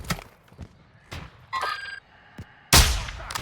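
Gunfire in Call of Duty Warzone DMZ, with scattered sharp shots and thuds that build to a loud, heavy close burst near the end.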